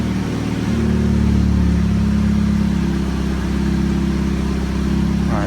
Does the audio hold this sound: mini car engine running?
yes